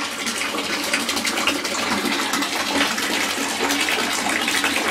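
Water splashes and sloshes continuously in a bathtub as a child is washed, a steady broadband wash of running and splashing water at close range with no talk over it.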